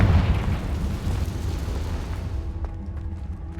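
A Confringo blasting spell goes off in Hogwarts Legacy with a heavy, booming explosion that hits hard at the start, then rumbles and slowly fades over a few seconds.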